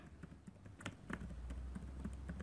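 Rapid, quiet keystrokes on a computer keyboard while typing text in Microsoft Word, a steady patter of soft clicks with no talking.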